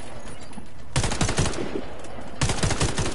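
Weapon fired at a target in a video game tutorial, with two short bursts of rapid, loud shots separated by a quiet pause, over a faint background hum.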